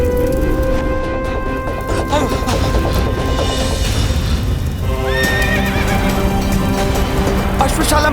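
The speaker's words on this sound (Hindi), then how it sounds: "अश्वशाला में तो अग्नि लगा दी इसने। अश्व तो अनियंत्रित हो चुके हैं" Several horses in a burning stable whinny and neigh in alarm over loud, busy commotion, with hooves clattering and voices mixed into the din.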